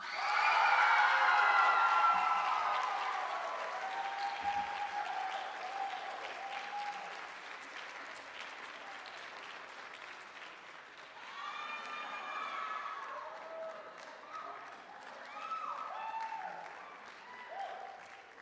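An audience at a high school drama awards night applauds the winners, loud clapping at first that slowly thins and softens, with scattered whoops and cheers rising again near the end.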